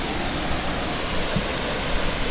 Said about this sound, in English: Look at these waterfalls up either side